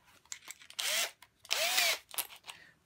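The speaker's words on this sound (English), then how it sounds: "chuck that up in my drill" A power drill whirs in two short bursts, spinning up and winding down, with small handling clicks and knocks around them, close by.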